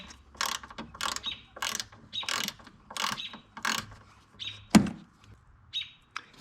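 A ratchet spanner undoing bolts to remove a reservoir on a Ford Fiesta ST, a string of about seven quick clicking ratchet bursts in a steady rhythm, close and distinct, with a sharper knock near the end.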